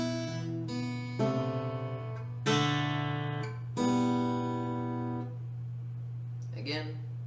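Fingerstyle acoustic guitar picks out part of a song. Ringing plucked notes over a steady bass drone come in several phrases with strong attacks, and a final strum rolls out near the end.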